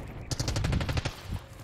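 A quick burst of automatic gunfire from Call of Duty Black Ops 6 multiplayer, a handful of rapid close shots lasting about a second.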